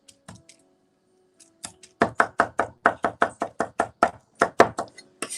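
A kitchen knife roughly chopping a clove of garlic on a cutting board, a few soft taps first, then a steady run of about fifteen close, crisp knocks at a quick, even rhythm.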